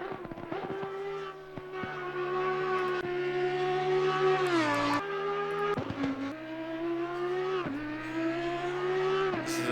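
Audi EVO GT3 racing at Oulton Park in Assetto Corsa Competizione: a loud, close engine note climbing through the revs, with quick drops at each gear change and repeated surges under steady acceleration.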